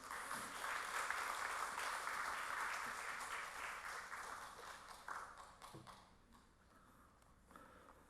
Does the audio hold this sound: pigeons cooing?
no